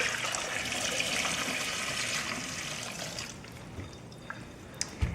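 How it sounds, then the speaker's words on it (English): Water from boiled potatoes is drained off, pouring in a steady splashing rush that gradually thins to trickles and a few drips near the end. "this is still swimming with water, so I'm going to drain off some more."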